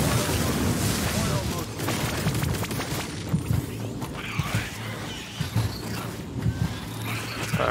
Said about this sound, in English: We hear our missiles going again.